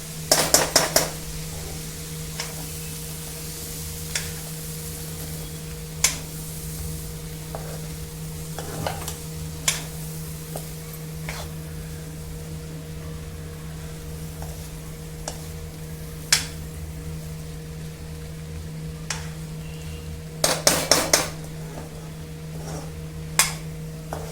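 Green peas stirred into spice masala in a pan, soft sizzling under a steady hum with scattered clicks and scrapes of a spoon against the pan, close and moderately quiet.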